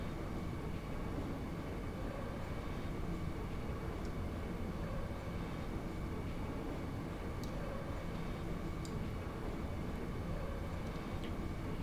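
Steady rumble of a train ride in Final Fantasy 8, a continuous low mechanical drone with faint clicks, constant in level throughout with no talking.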